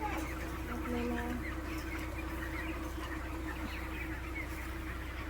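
Broiler chickens in a hot poultry shed cluck softly under a constant mechanical hum from fogger equipment, a short burst of calls early on, then a low steady background.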